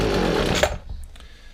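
McCulloch two-stroke hedge trimmer engine catching briefly, a loud close rasping burst that cuts off after under a second, leaving a quiet tail with faint clicks.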